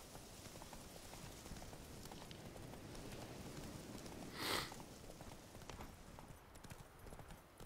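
Horse hooves clip-clopping in The Witcher 3 video game, a steady rhythmic trot at moderate distance with a brief louder burst midway and no talk.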